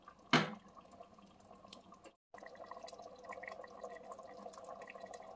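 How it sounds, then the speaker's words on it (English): Water is added to a pot of dinuguan, a pork and beef blood stew, in a short splash and pour. A brief gap follows, then a low bubbling simmer and faint kitchen clatter, with no talking. "So just gonna add a little water"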